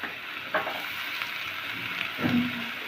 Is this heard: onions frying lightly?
yes